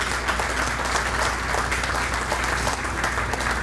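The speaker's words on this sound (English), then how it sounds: "You know, you can clap early in the morning." Outdoor audience applause at a marine terminal lease signing ceremony, a steady, close wash of many hands clapping continuously at constant loudness over a low background hum.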